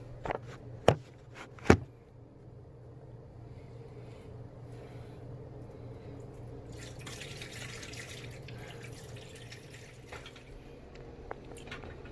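Soaked Irish sea moss, with its lime and lemon removed, is drained of water: two sharp drips early on, then a steady, faint trickle of running water that lasts to the end.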